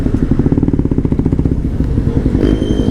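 Loud, close engine of a Raider 150 Fi motorcycle with a remapped ECU and open pipe, revving in a rapid, pulsing burble that rises and crackles, with no talking.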